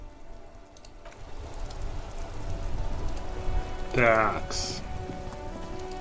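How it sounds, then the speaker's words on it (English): Steady rainfall patters across a street scene in the video game Disco Elysium, a constant close hiss of drops on surfaces with a brief tonal chime in the middle and a single short spoken word over it. "This rain will not let up anytime soon."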